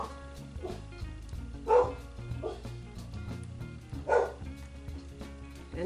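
Household dogs bark in short bursts, with two louder barks standing out and a few softer yips and whimpers, moderately close, against a quiet background.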